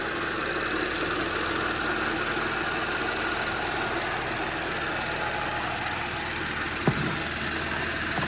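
Audi A6 C6 with a 3.0T supercharged engine idling, heard from outside the car as a steady, even mechanical hum and whine, with a single brief click near the end.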